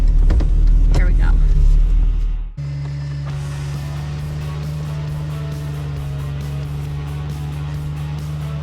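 A massive army truck on snow tracks climbs a snowy hill, its engine a steady, close, loud drone with a low hum. A clattering rumble comes first, then cuts off abruptly into the even engine note.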